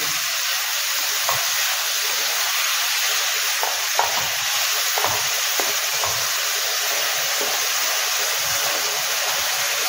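Prawns fry in a pan with salt and spices for a mustard-poppy seed prawn dish, giving a constant, fairly loud sizzle with scattered small pops and crackles.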